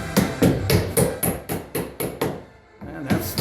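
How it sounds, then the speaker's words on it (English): A hammer drives nails through drywall into the top plate on an EF block wall, with about a dozen sharp, close, evenly spaced strikes and a brief pause near the end. "he'll get up there and nail to the top plate."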